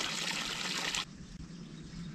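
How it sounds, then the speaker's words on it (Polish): Water trickles and splashes steadily at a refill point along a trail in Zion, Bryce Canyon or Arches, loud and close at first, then softer and more distant after a second. "Oj, nawet tutaj jest woda."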